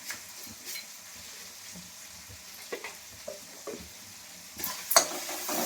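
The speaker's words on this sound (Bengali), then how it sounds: "দিয়ে আমি ভালো করে মশলাটা নেড়ে নেব।" Masala for an egg curry being stirred and fried in a pan, giving a soft, steady sizzle broken by scattered spoon scrapes and knocks that grow a little louder toward the end, with no talking.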